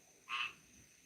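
A single short frog croak, likely from a video game, rises briefly over a quiet background and fades within a fraction of a second.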